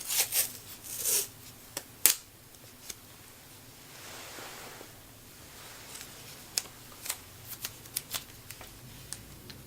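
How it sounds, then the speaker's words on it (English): Strips of painter's tape pulled from the roll and pressed down onto a drawing surface, giving a few sharp tearing rasps early on, then quieter rustling and small ticks, close and faint with no talking. "Actually, we'll use some tape and do it the correct way."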